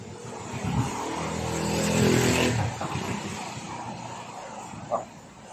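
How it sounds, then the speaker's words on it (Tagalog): A heavy rice mill engine runs loudly and steadily, its low rumble rising and falling, with a sharp engine knock near the end. "Parang nag-knocking na yung makina."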